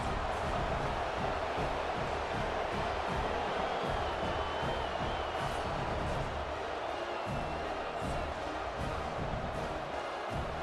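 Video game stadium crowd in EA Sports College Football roars steadily throughout, a dense, continuous wall of cheering at a fairly loud level with no clear talk on top.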